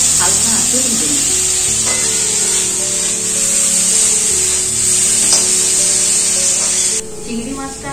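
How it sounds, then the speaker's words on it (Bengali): Small prawns fry on low heat in mustard oil in a wok, a bright continuous sizzle with soft stirring scrapes and a low tonal hum that cuts off abruptly near the end. "এই চিংড়ি মাছটা হালকা আঁচে ভেজে নেব।"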